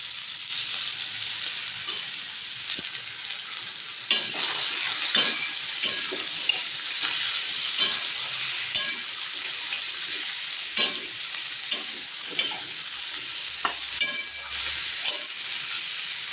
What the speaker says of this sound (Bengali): আদা, লঙ্কা, গোটা জিরে ফোড়ন দিয়েছি